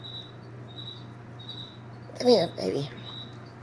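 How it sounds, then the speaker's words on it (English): A noisy cricket chirps in short repeated bursts through a quiet morning room with corgi puppies nearby, steady and moderately close, while a person briefly speaks over it. "And we have a noisy cricket this morning."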